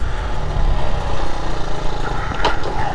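A 1978 Honda Z50 Monkey's 50cc engine runs at high revs with a steady, close buzzing drone that holds throughout with only slight swells.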